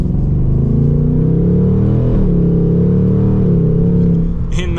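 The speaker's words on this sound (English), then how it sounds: "Obviously, you gotta love the V8." A 2024 Ford Mustang GT Premium's V8 accelerates from inside the cabin, a loud, deep engine drone rising and shifting in pitch with a brief dip midway, steady and close throughout.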